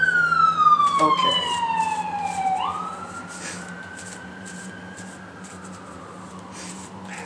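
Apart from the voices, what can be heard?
emergency siren passing by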